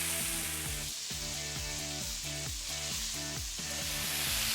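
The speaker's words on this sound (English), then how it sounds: "leave some behind in the pot so that we can brown that steak over medium-high heat" Steak browns in a pot over medium-high heat, giving a steady loud sizzle and crackle close by, with a rhythmic pulsing texture and no talking.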